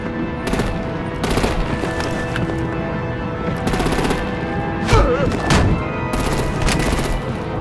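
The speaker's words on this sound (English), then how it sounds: "Break out the artillery and disable their vehicles!" Artillery and machine-gun fire in the Batman: The Enemy Within video game, dense rapid bursts of automatic shots with heavier thuds, loud and near, repeating in volleys with brief gaps.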